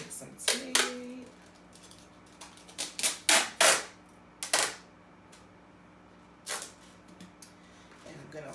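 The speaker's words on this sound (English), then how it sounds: "And I'm just going to put the tape around it." Tape being pulled off a roll and wrapped around two cardboard paper towel tubes for a homemade marble run, a series of sharp, close ripping and crackling bursts separated by short pauses.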